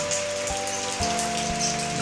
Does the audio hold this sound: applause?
no